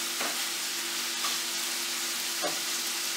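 Chicken pieces fry over high heat in a pan for chicken chop suey, giving a steady loud sizzle with a few clacks of stirring utensils. No one speaks.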